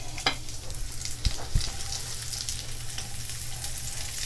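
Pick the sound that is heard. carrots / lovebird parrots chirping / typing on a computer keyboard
carrots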